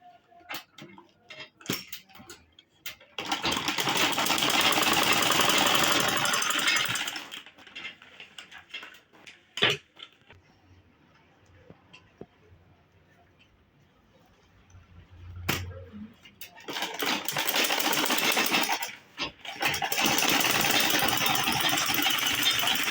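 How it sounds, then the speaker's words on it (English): A home sewing machine top stitching a fabric shopping bag with a front pocket runs in two long, steady bursts, separated by quieter moments of fabric handling and small clicks. "Top stitch here and top stitch the other side."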